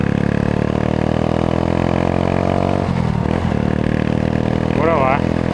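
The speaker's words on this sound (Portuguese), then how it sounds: "Ela tá um pouco lenta, galera, a moto." A 1999 Honda CG motorcycle with a GP Competition exhaust runs steadily at a low, even engine note, loud and close throughout, slightly sluggish.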